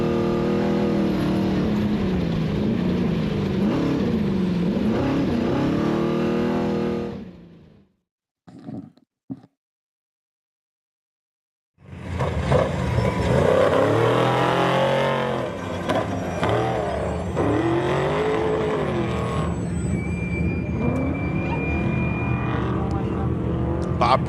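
An off-road race truck in a Baja rally stage runs close and loud with surging engine revs, cuts out briefly to near silence, then returns with more revving and a voice speaking over it.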